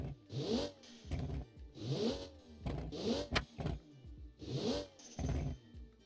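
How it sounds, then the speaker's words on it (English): A car in a racing video game revs repeatedly, with four bursts of engine and then a sharp hissing chuff from a turbo blow-off valve after each, in a regular rhythm and fairly quiet. "And listen to that blow-off valve."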